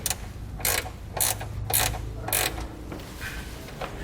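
Wrench ratchets in short bursts of clicking as a nut is tightened onto a ground wire stud during a Roadmaster Diode 7-wire to 6-wire Flexo-Coil wiring kit install, about five sharp ratcheting strokes close up with no talking.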